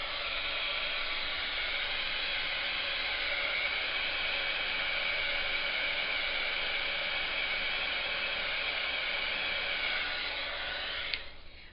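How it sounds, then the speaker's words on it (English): A handheld hair dryer blows steadily on an inked card made with peg stamps, a loud continuous whooshing hiss that holds evenly for about eleven seconds before cutting off near the end. "I'm going to dry it before I go any further"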